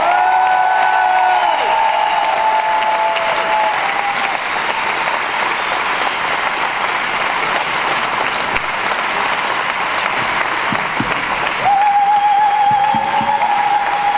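Sustained applause from a crowd at a left-wing municipal election rally in Brest, continuous and dense clapping throughout, honoring the local deputy.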